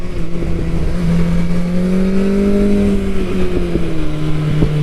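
A 2021 BMW S1000R sport motorcycle engine pulls hard on country lanes, its loud, close tone climbing steadily then easing off over about five seconds, with no talk.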